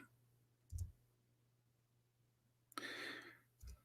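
A computer keyboard that is malfunctioning while being typed on, heard as a few isolated faint clicks and one brief rattling burst of keystrokes against a quiet low hum, with no talking.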